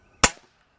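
A break barrel pellet gun fires once, a sharp, loud, close crack that decays quickly into silence.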